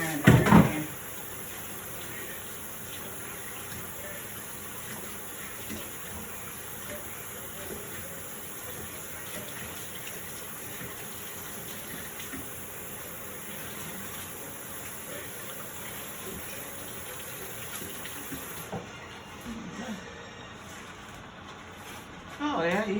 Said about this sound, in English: You get a little sizzle going on now